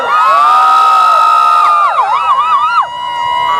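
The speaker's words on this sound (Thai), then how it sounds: "ขอเสียงกรี๊ดหน่อย" A large crowd at a music festival in Thailand screams and cheers loudly on a performer's call, high shrieks rising and wavering together for a few seconds before easing off.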